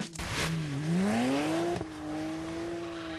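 BMW 135i driving hard around the La Ferté-Gaucher circuit, its engine note rising and falling through revs in a loud, close, continuous drone with a brief sharp burst midway.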